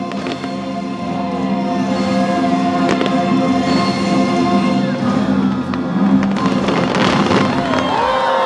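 Fireworks show at Hong Kong Disneyland, with continuous loud crackling and booming bursts layered over a dense ambient wash of crowd noise and music throughout.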